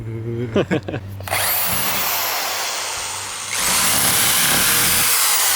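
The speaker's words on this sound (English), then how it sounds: "Got a new drill." A power drill runs in two long, loud bursts, its high whine and rising pitch filling the sound, after a brief voice.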